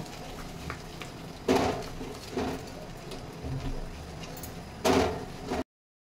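Spices being mixed in a pan for an egg curry, with two or three louder scraping bursts of the spoon over a quiet kitchen background, close by and with no voices.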